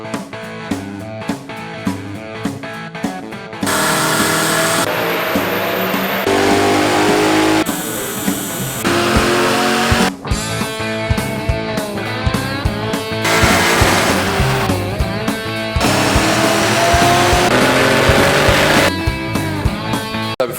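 Turbocharged Honda K20/K24 engine on a dyno, loud and close: a few short throttle blips, then sustained high revving pulls that rise in pitch, drop off briefly, and climb again across the run.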